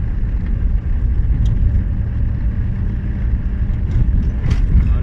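Manual car driving in fourth gear, a loud steady low engine and road drone heard from inside the cabin, constant throughout with faint wind rush and a couple of small clicks, no talking.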